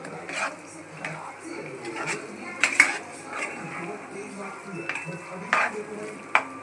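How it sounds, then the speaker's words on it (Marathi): Crumbled paneer for dhaba-style paneer bhurji being stirred and mixed in a pan, with soft scraping and clinking of a utensil against metal and a faint sizzle, in irregular bursts close by. "नंतर त्याला चांगलासा मिक्स करून घ्यायचं आहे पनीरला"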